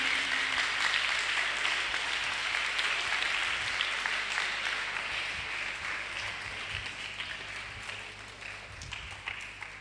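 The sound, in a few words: audience clapping for a news anchor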